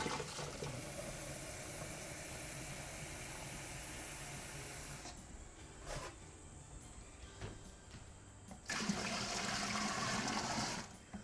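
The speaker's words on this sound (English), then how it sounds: "So I'm going to top it up now with all the cold water." Cold water pours steadily into a home-brewing container with a broad rushing hiss, pausing briefly before resuming louder toward the end.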